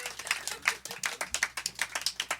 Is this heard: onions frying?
no